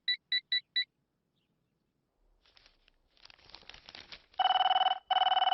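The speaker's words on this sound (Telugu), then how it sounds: "అబ్బా, ఈ ఫోన్ చంపేస్తున్నా." A telephone in a comedy film scene gives four quick electronic beeps, then after some rustling breaks into two loud, sustained bursts of ringing with a short gap between them.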